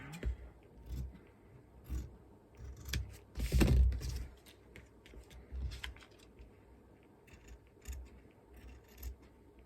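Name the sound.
cutting a paper letter out with scissors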